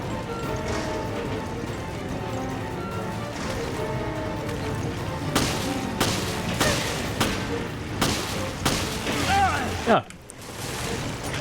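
Gunfire in Resident Evil: Revelations, a series of sharp shots spread over steady game music and background noise, ending in a louder burst followed by a sudden drop.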